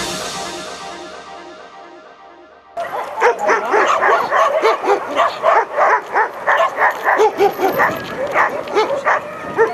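A young Pekingese dog barks in quick, yappy bursts mixed with whimpers, close and loud, after a few seconds of quieter sound.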